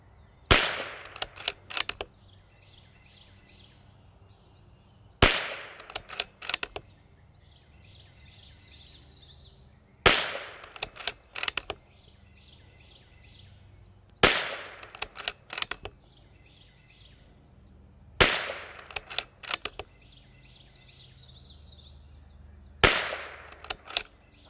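Bergara B14R heavy rifle firing at a range target, six sharp loud shots spaced about five seconds apart, each followed by short echoing tails and faint clicks.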